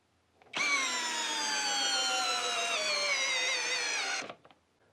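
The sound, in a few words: Hyper Tough 12-volt drill/driver running a test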